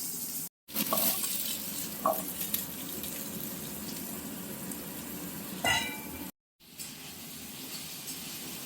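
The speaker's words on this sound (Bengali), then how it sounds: "তারপরে এবার ছেড়ে দেওয়া হবে ডুমো ডুমো করে কেটে রাখা আলু আর বেগুন" Diced potato and eggplant dropped into hot oil with nigella seeds, giving a steady wet sizzle with a few scrapes and clinks of stirring, heard close and alone.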